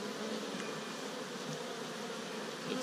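Honeybees buzz steadily around an opened hive frame while a beekeeper cuts capped drone brood, a close, continuous swarm hum with no talk.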